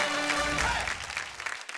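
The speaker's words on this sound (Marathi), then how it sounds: "एकदा जोरदार टाळ्या झाल्या पाहिजे, जोरदार टाळ्या" Loud applause from a studio audience on a Marathi television game show, a dense burst of clapping that thins out toward the end, with a faint sustained tone underneath.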